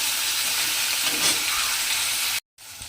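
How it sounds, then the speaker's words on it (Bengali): Snakehead fish frying in hot oil for a fish kalia, giving a loud, dense, continuous sizzle close by that cuts off abruptly near the end and briefly returns more faintly, with no talking. "মাছগুলোকে প্রথমে একটু লাল করে ভেজে নিতে হবে"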